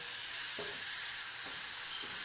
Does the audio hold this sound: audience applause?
no